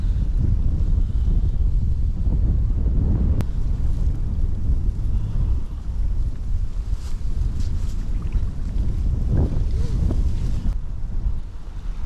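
Strong wind buffeting the microphone with a constant low roar, with faint water sounds underneath and no one speaking, while carp fishing in cold early-spring water.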